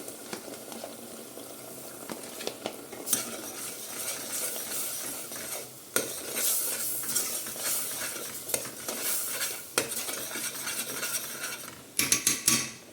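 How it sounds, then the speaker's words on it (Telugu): Onion paste mixed with ginger garlic paste fries over a low flame, a steady sizzle broken by scraping spoon strokes and clinks against the pan, close and without talk. "కొంచెం ఇది పచ్చివాసన పోయే వరకు ఫ్రై అవ్వనిద్దాం."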